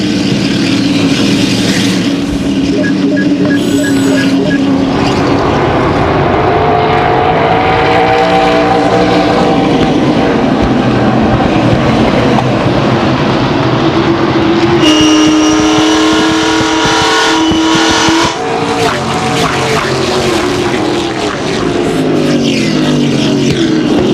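Loud, roaring engines of ASA race cars at Indianapolis Raceway Park in 2003, rising and falling in pitch as they scream past one after another, a constant wall of motor noise with no voices.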